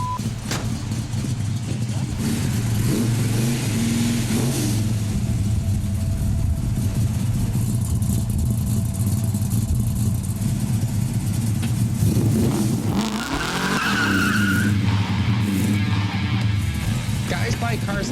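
A 500-horsepower Dodge Super Bee muscle car engine roars and revs loudly throughout, rising sharply near the end as the car slides sideways, with people talking over it.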